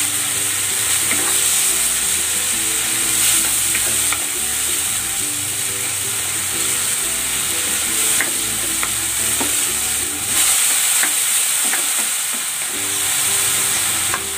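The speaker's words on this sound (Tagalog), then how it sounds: "Igisa ko na itong kamatis." Tomatoes sautéing with salt in a hot pan give a steady close sizzle, with scraping and stirring clicks throughout and no voices.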